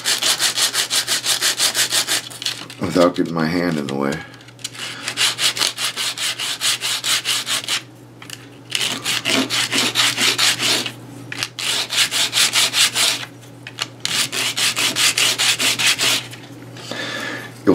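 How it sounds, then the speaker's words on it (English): Hand sanding a 3D printed wood-filament crate top on 150 grit sandpaper laid on a glass-topped table, with steady back-and-forth rubbing strokes in close, loud bursts broken by short pauses. "I just set the sanding paper down on the table and"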